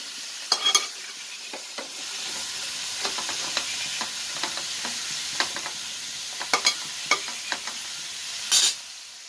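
Sliced snake gourd stir-frying in a pan, a continuous soft sizzle broken by sharp scraping and clinking strokes of a spatula, close and with no talk.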